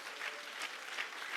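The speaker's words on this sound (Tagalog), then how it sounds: "Malakas na palakpak ng pasasalamat" Loud, steady applause from a church congregation fills the whole moment, a dense continuous patter of clapping hands giving thanks to the Lord, with no voices rising above it.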